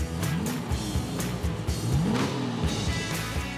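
Final-series Jaguar E-Type with a 5.3-litre V12 engine revs and accelerates up close. Its engine note climbs and sweeps up and down with a rough, throaty hum throughout, and there is a hint of tire noise.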